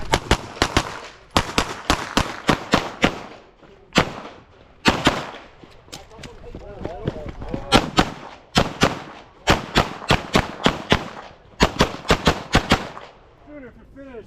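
Pistol shots ring out in fast bursts during a rainy USPSA practical shooting match stage, sharp and loud with short pauses between strings.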